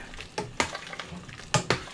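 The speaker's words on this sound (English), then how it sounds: "We're going to give this a stir." A spoon stirs sausage soup in a pot, with several scraping, clinking strokes against the metal in an uneven rhythm, close and moderately loud, over a faint simmering sizzle and no talk.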